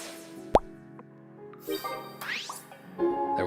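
Game sound effects from Pokemon TCG Pocket on a phone: a sharp plop-like pluck followed by bright chiming, tinkling tones and sweeping digital jingles, clear and close with no talking.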